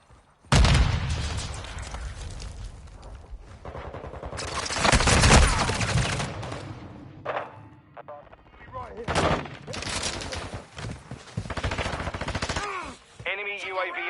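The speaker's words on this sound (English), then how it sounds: "Grenade out!" In the mobile shooter Call of Duty Mobile, a grenade blast follows rapid bursts of automatic gunfire, loud and close, with repeated volleys and in-game voice callouts over the shooting.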